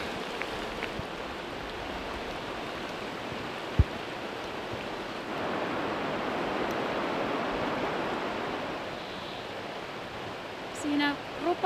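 Rushing river rapids around Rupakivi rock in the middle of a forest rapid on the Karhunkierros trail in Finland, a steady, broad roar of water running continuously, with a single sharp knock near the middle.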